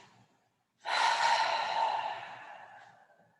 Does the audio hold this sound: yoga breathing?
yes